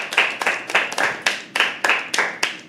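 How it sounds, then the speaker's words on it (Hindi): Audience clapping in repeated bursts at a live poetry open mic, each swelling quickly then fading, several rounds in quick succession, fairly close and lively. "पर अपने लिए तालियां बजा दो।"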